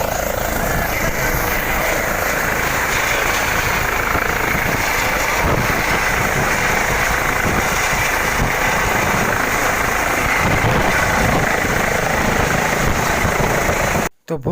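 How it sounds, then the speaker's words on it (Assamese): A helicopter's engine and rotor roar loud and close in a steady, unbroken drone as it lifts off and flies, ending in an abrupt cut. "আৰু এতিয়া আমি হেলিকপ্টাৰখন উৰি ফুৰি দিওঁ"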